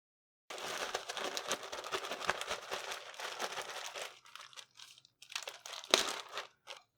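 A plastic bag crinkles and rustles as chicken tenders are coated inside it, crisp bursts of crackling that thin into intermittent scrunches and a final sharp crunch, close up with no talking.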